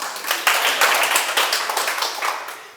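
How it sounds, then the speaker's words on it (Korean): An audience at a Sunday Buddhist lecture applauds, dense steady clapping that stays loud throughout and fades slightly toward the end. "큰 박수 부탁드립니다"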